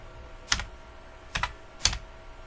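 Three crisp, separate keystrokes on a computer keyboard while entering text in Photoshop, evenly spaced and close.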